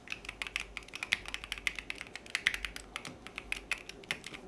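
Typing on a Keychron Q6 Max keyboard with Hall Effect switches makes quick, irregular, fairly soft clacks at close range, a steady run of keystrokes with no voices.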